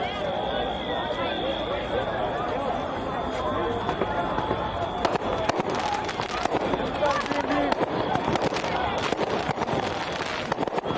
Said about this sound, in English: we are hearing flashbangs